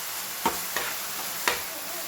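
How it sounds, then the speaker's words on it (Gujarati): Tomatoes sautéing in a little oil in a pan: a steady soft sizzle with three distinct scraping stir strokes, close and moderately quiet, no voices. "આપણે આવી રીતે સરસ સોતે કરી દીધું"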